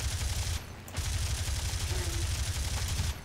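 Rapid machine-gun bursts from a CR.42 Falco fighter plane in War Thunder, dense rattling fire with a brief pause early on, over a low engine drone.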